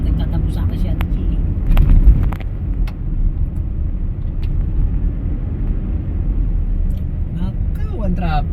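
Road traffic on EDSA, a steady rumble of cars and engines crawling in a heavy jam, close and continuous, with people talking over the noise.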